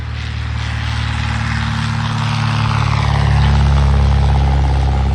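A vintage Great Lakes Sport biplane drones past at an aerodrome, its propeller engine a steady rumbling hum that swells louder as it draws nearer.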